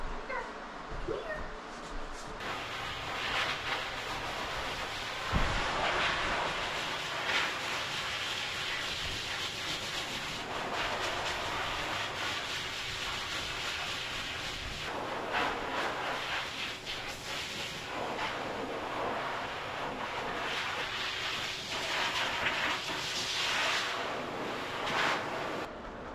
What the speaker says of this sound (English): finish blow drying him on the grooming table